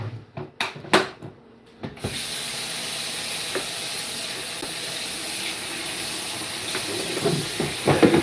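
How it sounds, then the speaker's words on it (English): Hands being washed with dish soap at a kitchen sink after handling meat: a few soft clatters, then running tap water pours in a steady close hiss that lasts to the end. "So I'm washing my hands because there's meat on my fingers."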